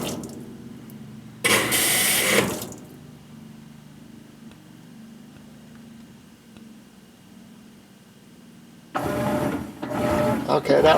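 GE top-loading washing machine adding water in two loud rushing bursts, each a couple of seconds long, separated by a low steady mechanical hum.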